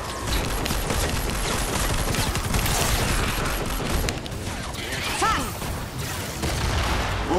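A thrown grenade goes off in Fortnite amid a dense barrage of gunfire and crashing game effects, loud and busy for the whole stretch, with no clear talk on top.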